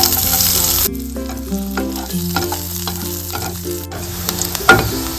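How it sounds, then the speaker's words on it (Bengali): Garlic and dry red chillies crackle and sizzle loudly in hot oil in a pan for a chutney, a steady frying hiss with scattered pops and a few stirring knocks. "রসুন ফোড়ন দিলাম।"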